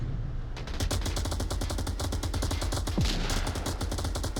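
Rapid automatic gunfire in the VR shooter Onward rattles in dense, continuous bursts during a close-quarters fight in basement tunnels, loud and sustained with overlapping shots.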